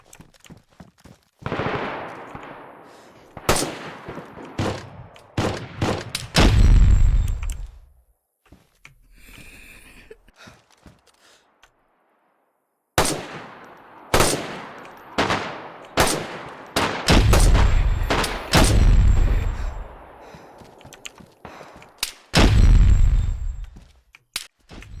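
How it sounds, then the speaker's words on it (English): A .50 cal machine gun firing in DayZ, loud sharp bursts of heavy shots with reverberant tails, coming in clusters separated by near-silent gaps. "There's a dude with a 50 cal shooting me."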